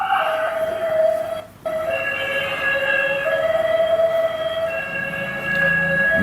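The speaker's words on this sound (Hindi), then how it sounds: "लगातार एक तरफ से दूसरी तरफ एम्बुलेंस भागती हुई नजर आ रही है" Ambulance siren wailing continuously in the aftermath of an attack in Israel, loud and steady with sustained tonal lines, a brief dropout near the start, then carrying on alone amid street noise.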